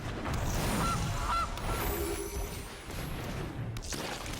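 A cartoonish goose honks twice in a digital card game as the Gilded Goose card is played, a short pair of honks over game effects and a low boom.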